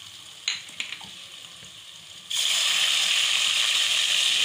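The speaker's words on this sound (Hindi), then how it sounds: "मसाले को थोड़ा सा हम भून लेंगे।" Spices hit a pan of golden-browned onions and burst into a loud, steady sizzle partway through, after a few soft clinks and faint stirring sounds.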